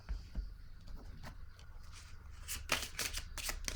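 Tarot cards are handled and drawn, giving soft, close papery flicks and slides that grow into quicker riffling snaps toward the end.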